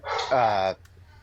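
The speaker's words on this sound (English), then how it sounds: "all of a sudden my dog started freaking out" A dog gives a single close, loud, drawn-out bark that rises into a whining yelp, followed by quiet.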